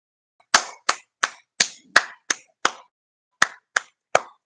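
Ten sharp, isolated hand claps ring out at a slightly uneven pace, close and distinct against near silence, with a brief gap before the last three.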